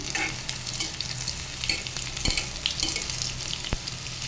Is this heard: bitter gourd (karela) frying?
yes